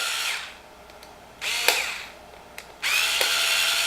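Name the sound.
power drill loosening stainless steel faceplate screws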